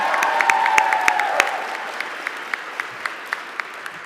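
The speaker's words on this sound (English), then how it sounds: "Yeah, we should clap for them, yeah." Audience applause at a Michigan clean energy bill signing, dense clapping that thins out into a few scattered claps, with a faint tone under the start.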